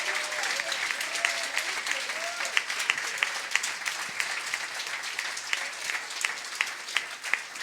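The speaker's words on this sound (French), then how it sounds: "on peut l'applaudir pour son travail d'hôtesse ce soir" Gala audience applauding the evening's hostess, a fairly quiet, sustained patter of many hands with individual sharp claps standing out, heard from some distance with faint voices beneath.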